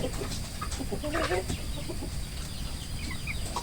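Chickens recovering from an illness cluck and murmur softly at moderate distance, with scattered short calls over a steady background hiss and no talk.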